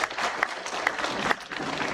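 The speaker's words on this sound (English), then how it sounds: "they all deserve a round of applause" A brief, faint round of clapping from attendees at a state sector-wide government engagement and performance meeting in Plateau, with a few sharper claps standing out from a soft, even patter.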